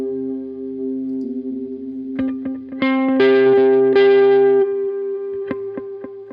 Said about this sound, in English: Let's hear it with delay.